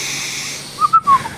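A nose whistle gives a few short, thin high-pitched squeaks in quick succession, close and fairly loud over a quiet room.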